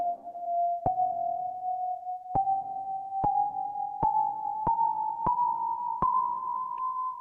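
Microtonal tones from a 97-step equal tempered scale, played as one sustained pure tone that steps upward in small increments, each new note marked by a soft click, clear and alone.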